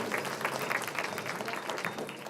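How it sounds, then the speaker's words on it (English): Audience applause at an elementary school spring concert, a steady close patter of many hands clapping for a couple of seconds without pause. "Let's give Kylie a round of applause."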